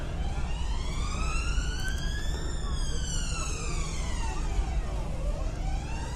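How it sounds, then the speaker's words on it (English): Police car sirens sweep past on a road in a loud, continuous wail that rises and falls, over heavy steady engine and wind rumble. "just saw a load of police cars go flying past there"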